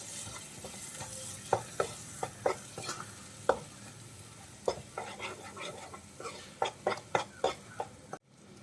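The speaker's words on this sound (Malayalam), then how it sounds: "അരച്ച് വെച്ചിട്ടുള്ള കാഷ്യൂനട്ട് പേസ്റ്റ് ചേർത്ത് കൊടുക്കാം. നന്നായിട്ടൊന്ന് വഴറ്റി കൊടുക്കാം." Cashew nut paste sautés in a pan for a malai mushroom dish under a soft, steady sizzle, while a spoon scrapes and taps the pan at irregular intervals.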